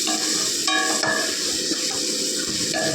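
Asafoetida, coriander powder and turmeric are dropped into hot oil, producing a loud, continuous close-up sizzle with a few light utensil clinks over the top.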